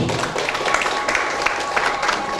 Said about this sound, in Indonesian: Tepuk tangan buat Bapak Dr. Haji Sutrisno Muslimin.